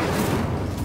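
In Hogwarts Legacy, a Confringo spell goes off as a loud, dense blast with a sustained roaring rumble that fills the whole brief moment.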